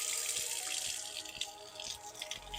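A tap runs into a sink as freshly cleaned items from an ultrasonic cleaner basket are rinsed, a steady faint splashing stream with small shifting splatters, no voices.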